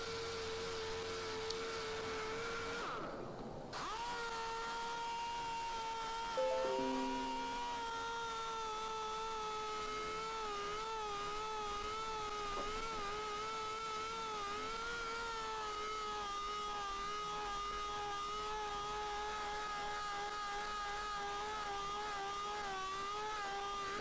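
A polishing tool works over aluminium Rolls Royce door handles, giving a steady, fairly quiet mechanical whine whose pitch wavers slightly. It cuts out briefly near the start, then runs on continuously.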